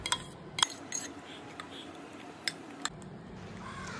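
A utensil clinks against a dish while white sauce is mixed into chicken loaded fries, with a few sharp metallic taps and soft scraping, close and fairly quiet.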